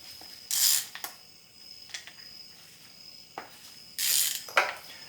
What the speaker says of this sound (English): these are 13mm head bolts. So go ahead and crack those loose